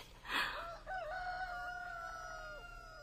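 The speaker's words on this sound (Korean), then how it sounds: "다시 새벽닭이 울고 날은 자꾸만 밝아온다." A rooster crows at dawn in a countryside setting: one loud, drawn-out cock-a-doodle-doo that rises sharply and then holds a long wavering tail, heard alone over a faint background hum.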